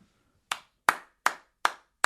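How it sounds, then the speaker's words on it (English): Someone claps outside, five sharp, evenly spaced claps in quick succession after a brief quiet moment, crisp and fairly close. "Who is clapping outside?"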